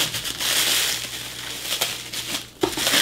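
Close, loud crinkling and crumpling of wrapping as a package is unwrapped, with a short dip in the noise before the rustling resumes.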